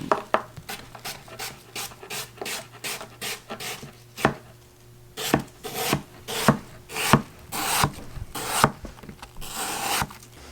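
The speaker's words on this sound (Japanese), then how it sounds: "自分が切ったリンゴを今ブレンちゃんが切ってる薄く切ってくれてます" A knife slices a fresh apple thinly on a board, giving a run of crisp, regular cuts at a steady rhythm, close and clear with no talking.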